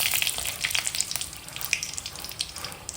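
Whole cumin, bay leaf and dried chilli fry in soybean oil with a steady, close crackling sizzle and sputtering pops, heard alone without talk.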